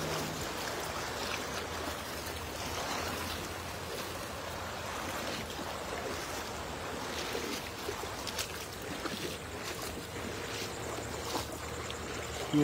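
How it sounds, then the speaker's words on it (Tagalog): A strong, knee-deep river current rushes past a fishing spot, a constant broadband wash of moving water heard up close, with no voices over it. "Malakas po yung agos pero tagatuhod lang naman."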